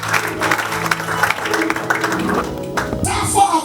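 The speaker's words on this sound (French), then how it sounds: "Clap the hand for Jesus." A church congregation at Sunday worship claps hands together, a dense run of many overlapping claps with voices mixed in underneath and a shift in the sound near the end.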